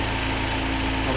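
A Land Rover 2.25 engine, freshly rebuilt and running smoky, idles steadily with a low, even rumble and slight vibration, loud and close throughout with no talk.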